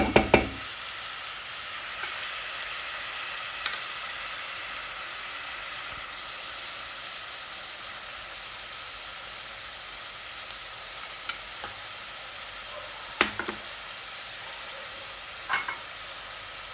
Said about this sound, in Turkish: soğanları yavaş yavaş kavrulmaya başladı